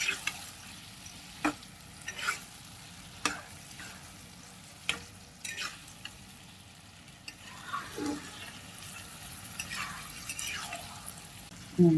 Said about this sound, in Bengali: নিয়ে এখন মশলার ভিতরে আমি এটা দিয়ে ভালো করে নেড়ে চেড়ে কষিয়ে নেব